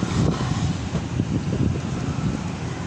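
Gusty wind buffets the microphone with a steady low roar, no voices present.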